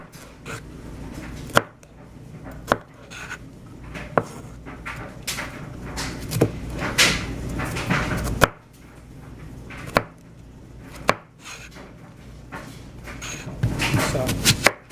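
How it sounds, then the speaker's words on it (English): Bell pepper and onion being cut into big pieces with a knife for kebabs, irregular close thuds of the blade hitting a cutting board with rustling between strikes, and a voice talking intermittently alongside. "you're just going to cut kind of big size pieces of the pepper and the onion"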